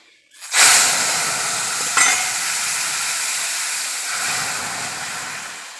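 Dry red chillies and whole black mustard seeds hit hot oil with a sudden loud burst of sizzle. A steady, hissing crackle follows, with a second brief flare around two seconds, then it eases slightly. No one speaks.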